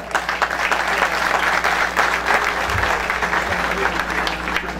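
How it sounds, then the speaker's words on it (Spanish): A crowd at a centenary celebration of the Divina Pastora miracle in Agustín Codazzi applauds Juana, dense continuous clapping that stays loud and even throughout, with some voices underneath. "Otra sonrisa, otro aplauso para Juana"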